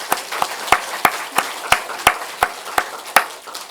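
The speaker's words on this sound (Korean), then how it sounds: "우리 하나님께 먼저 감사와 영광의 박수를 올려드립시다" Church congregation at a Sunday worship service clapping in a slow, steady unison rhythm, about ten crisp beats evenly spaced.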